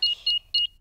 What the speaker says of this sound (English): Switch the alarm back on.